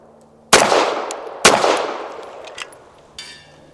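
Two loud, close pistol shots from a BUL Armory TAC PRO 5-inch firing Winchester Defense 147 grain jacketed hollow point rounds, each followed by a ringing decay, then fainter clicks and clinks of handling.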